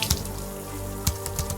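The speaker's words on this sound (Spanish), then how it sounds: "En casa me refresqué con agua fría para aclarar mis pensamientos." Water running from a tap into a sink for rinsing, a steady close splashing hiss with a couple of sharper splashes, no voices.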